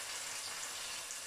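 Onion hits a hot pan for coconut chicken and sizzles, a steady bright hiss of frying that continues evenly and fairly quietly with no talk.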